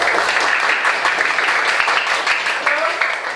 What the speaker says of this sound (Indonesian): tepuk tangan untuk tim pembantunya untuk kelompok atau tepuk tangan dulu ya